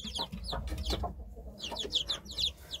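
Several hens cluck repeatedly in a farm coop where newly hatched chicks are kept, with steady short calls overlapping close by and a low background rumble.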